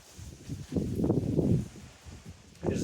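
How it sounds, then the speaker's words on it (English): Outdoor wind gusting ahead of a thunderstorm, buffeting close to the microphone in low, rumbling rushes that swell and fade over a few seconds, with no voices. "so pardon the wind"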